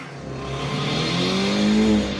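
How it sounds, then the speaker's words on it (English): A manual-transmission car engine revs hard and steadily, its pitch climbing across the clip, with a loud sustained roar and no voices. "Listen to the rev of the engine and the smoke coming off of it."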